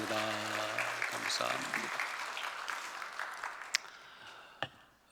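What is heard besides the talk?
congregation applause in church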